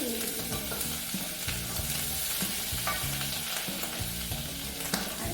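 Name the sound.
garlic sautéing in a pan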